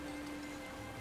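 Rain falling in the video game Pokémon Violet, a soft continuous patter with a faint steady tone running beneath it, fairly quiet and with no voices.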